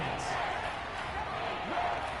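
Stadium crowd noise from a football video game on PS4, a steady broad roar of home fans during a third-and-goal play, continuous and fairly loud throughout with no distinct voices standing out.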